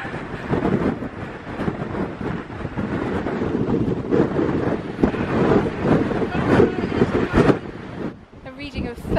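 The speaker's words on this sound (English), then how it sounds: "It's a bit blowy." Strong coastal wind in Cornwall buffets the microphone with a loud, continuous roar that surges and gusts throughout, briefly easing near the end, while people talk underneath.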